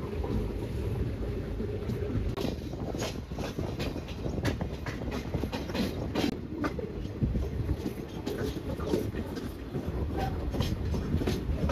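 A train pulls into Chiplun station with a continuous low rumble and a loose, repeating clatter of wheels over rail joints, heard fairly close and steady throughout.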